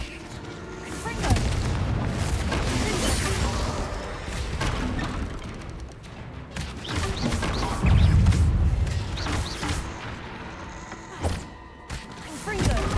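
Confringo explosion spell in the Hogwarts Legacy video game going off amid dense combat noise, with repeated loud booms and crashing thuds across the clip, the heaviest bursts near the start and midway, alongside shouted spell voices.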